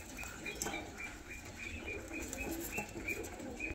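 Chotiyal Andhra and other fancy pigeons in a sale lot coo faintly amid soft wing flaps and light background noise, with no voices.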